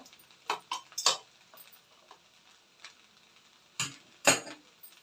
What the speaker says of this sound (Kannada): ಆ ಒಗ್ಗರಣೆ ಜೊತೆ ಫುಲ್ಲು ಬೆರಿಬೇಕಾಗುತ್ತೆ